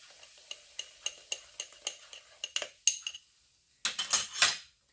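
A utensil clinks rhythmically against a bowl while mixing dough, a run of quick taps, then a louder frothy fizzing burst as vinegar is poured in near the end, with no voices.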